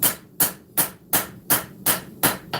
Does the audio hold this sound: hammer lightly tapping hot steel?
yes